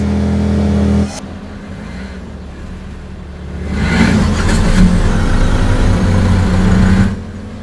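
Cartoon police car driving along a street: a loud steady engine hum that dips after a second, then swells into a stronger revving roar for a few seconds before easing off, with no talk over it.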